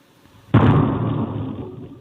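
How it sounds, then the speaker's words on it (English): A single loud explosion booms in Webster, captured on a home security camera, with a sharp onset and a long rumbling decay that lingers for over a second. "Hear the explosions people in Webster are hearing and recording on their security cameras."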